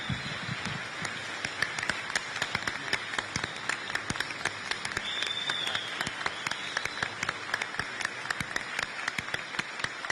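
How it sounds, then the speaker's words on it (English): Audience applause at a business hall of fame ceremony, a steady crackle of many hands clapping throughout, moderately distant and even, with no talking. "Round of applause."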